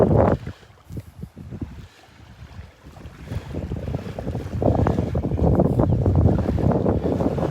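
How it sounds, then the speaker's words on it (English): Strong wind gusts buffet a beach at Delnor-Wiggins near Wiggins Pass, roaring steadily across the microphone with surf underneath, briefly easing before building to a loud, sustained blow. "it is really breezy"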